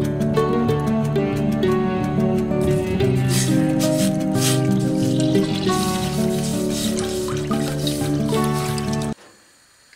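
A litre of milk pours into a saucepan already holding a little water while masala tea is made, a continuous close gurgling stream with a resonant filling tone that stops abruptly near the end.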